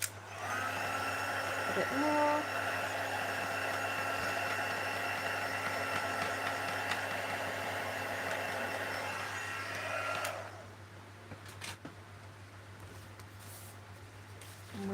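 Heat tool drying watercolour on a stamped card, a steady whirring blow with a whining tone running for about ten seconds before switching off, close and loud with a brief spoken word early on.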